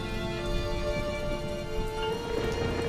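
Steady rain falls through the night in a Hindi cartoon story, a continuous even patter with a faint tonal hum beneath and no talking.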